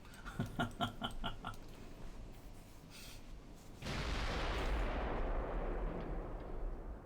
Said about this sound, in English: She continues to pepper my ship with those 4-inchers.